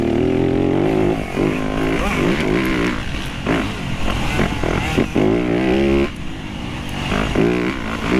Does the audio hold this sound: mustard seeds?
no